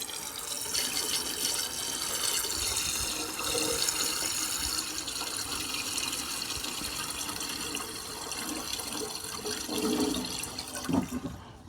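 Water runs and splashes steadily from the drain on the water pump of a military Coventry Climax generator, a continuous close trickling gush that goes on with no talk and ends in a few clunks.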